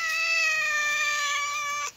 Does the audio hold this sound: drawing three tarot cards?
no